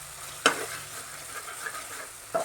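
Frying and stirring in a pan while cooking white kuska rice, with a sharp scrape of the spoon near the start and another at the end over a quiet, steady sizzle.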